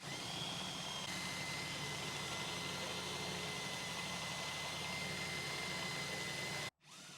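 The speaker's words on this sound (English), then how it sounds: "some of you thought about getting an electric winch. You got one." An electric winch driven through an 18mm socket hoists a load on a DIY hoist system, giving a loud, steady mechanical whir that runs continuously before stopping abruptly.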